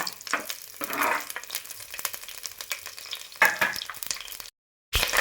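Sliced onions fry in a pan for a village-style egg curry, a crackling sizzle with bursts of stirring that swell and fade, then a brief silent gap before the frying resumes.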